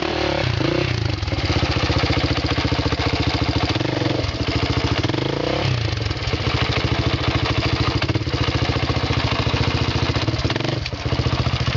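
A motorcycle engine runs steadily and loud throughout, a continuous buzzing drone with slight rises in revs, close up and without talk.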